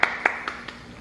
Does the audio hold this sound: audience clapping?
yes